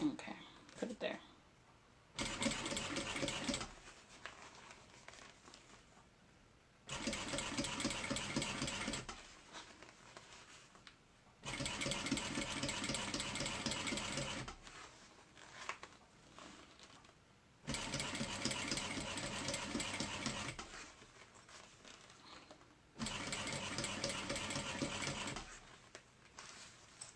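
A sewing machine stitches a mini backpack in four separate loud bursts of rapid, chattering needle action, each lasting a few seconds, with quieter pauses and handling noises in between.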